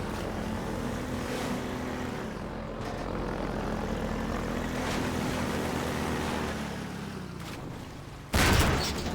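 A combat helicopter in the Half-Life 2 game's sunset arena drones in a continuous rotor rumble with a wash of wind-like noise, holding steady before a sudden louder burst near the end.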